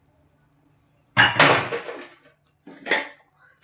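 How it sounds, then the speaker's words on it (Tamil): A mixer grinder jar is rinsed with water in a kitchen, producing two close, sharp bursts of sloshing and rattling separated by a brief quiet gap. "இப்போ இந்த மிக்சியை அலசி அந்த தண்ணியும் சேர்த்துக்கலாம்."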